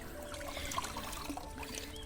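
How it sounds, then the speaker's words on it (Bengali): Water from a small hill stream trickles steadily over rocks, a faint continuous babbling flow with no one speaking. "এই ঝিরির পানি।"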